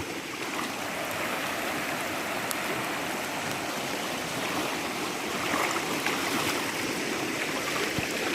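Floodwater runs through a cassava plantation after heavy overnight rain, making a constant broad rushing and gurgling wash that stays steady and fairly loud throughout, with no voices.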